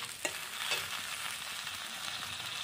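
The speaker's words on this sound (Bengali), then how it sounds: "এতে এখানে ভালদরে তেলের লগত অল্প লড়াই দিলো।" Onion paste sizzling and being stirred in hot oil in a pan, a steady close crackle with a couple of brief scraping stirs near the start, for a kawoi fish curry.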